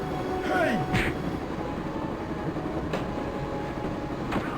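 A train rolls along in the Broken Sword video game, a constant rumbling, rattling drone with occasional brief clanks and squeals, heard up close and steady throughout.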